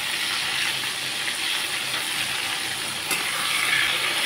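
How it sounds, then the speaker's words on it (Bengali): Fish, coated in a wheat-flour batter, fries in hot oil in a pan while being flipped, giving a steady, moderately loud hiss and sizzle with one brief sharp clatter near the end. "মাছগুলোকে এখন আমি উল্টে দিচ্ছি।"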